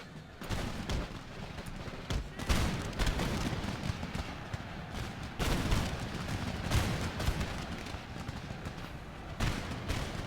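Artillery bombardment and musket fire rumble through an Empire Total War Darthmod battle in India, a dense, continuous wash of overlapping booms and crackling volleys that swells and eases without pause.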